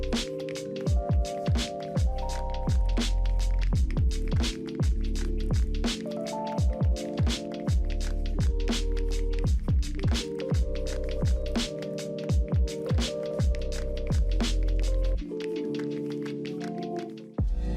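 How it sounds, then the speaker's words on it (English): A machine cutting and shaping foam into cones for shuttlecocks runs with a repeating squishy, squelching cycle of sharp clicks over a droning hum, rhythmic and close, with no talking. "This amazing machine cuts and shapes foam into perfect cones with remarkable precision."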